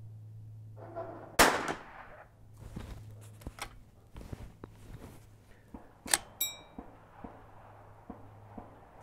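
A single sharp, loud gunshot from a Ruger Mark II .22 pistol at an outdoor range, followed by smaller clicks, clanks and light handling noises nearby, with no talking.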